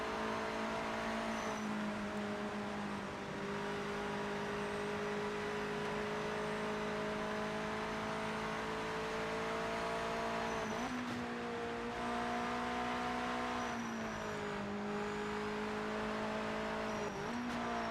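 Race car engines in the video game Project Motor Racing on PS5 drone steadily for eighteen seconds, a continuous whining hum with periodic pitch dips and rises as gears shift and cars pass, fairly faint with no voices.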